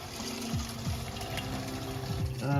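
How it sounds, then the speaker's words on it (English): An electric water pump on a self-built MAN 4x4 overlanding expedition truck draws water from the onboard tank, giving a steady humming drone with gurgling water and faint pulsing, close and continuous. "So I'm going to touch this to the battery, start the pump running thus, and that'll start pulling the water through from the tank."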